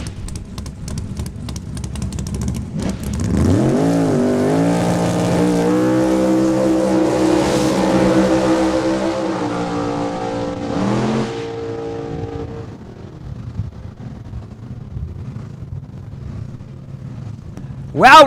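A 1966 Chevrolet Chevelle launches and accelerates down a drag strip at a raceway, its loud engine roaring and rising through gears before easing off as the car passes and fades, with crowd and track ambience behind.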